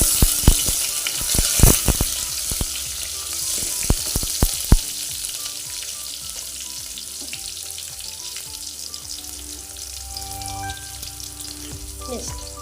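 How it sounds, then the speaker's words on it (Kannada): Onions frying in a pan, a continuous close sizzle with sharp clinks and taps of a utensil against the pan early on, then settling into an even hiss without voices. "ಅಷ್ಟು ಈರುಳ್ಳಿಯನ್ನು ಹಾಕ್ಕೊತಾ ಇದ್ದೀನಿ ಸ್ವಲ್ಪ ಹಾಗೆ ಫ್ರೈ ಮಾಡ್ಕೋಬೇಕು"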